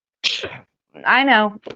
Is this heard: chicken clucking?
no